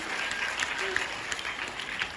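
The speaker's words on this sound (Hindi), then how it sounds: "चलिए जोरदार ताली हो जाए अदीबा के लिए।" Schoolchildren and staff clap for a student receiving a monthly best-student prize, a short burst of close, moderately loud applause with distinct individual claps.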